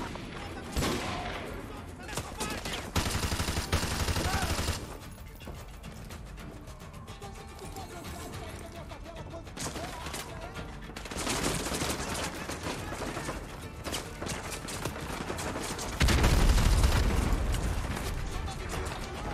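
Gunfire in the video game Modern Warfare 2 Remastered: rapid bursts of automatic fire and dense volleys come and go, loudest early and near the end, with mechanical weapon clicks and people talking over the action.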